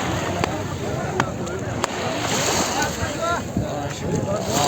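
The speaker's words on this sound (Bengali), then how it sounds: "কত সুন্দর করে ঢেউ দিচ্ছে।" Sea waves wash onto an Arabian Sea beach in Saudi Arabia, a steady broadband surf roar with wind buffeting the microphone and a few sharp knocks, while voices murmur faintly in the background.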